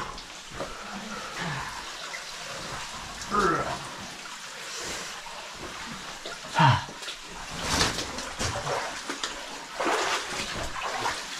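Water splashing and trickling down a waterfall inside a large cave, an ongoing wash with occasional louder splashes, and a person's voice intermittently over it.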